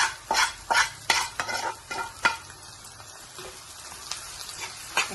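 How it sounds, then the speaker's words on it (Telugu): Onion and vegetable pieces, including cluster beans, are stir-fried in a pan for a moong dal curry, with repeated sharp scraping strokes over a soft sizzle, close and rhythmic at first, then quieter. "ఫ్రై చేసుకోవాలండి ఇట్లా, అప్పుడు ఆ ఉల్లిపాయ మళ్ళీ ఫ్రై అవుద్ది అనమాట."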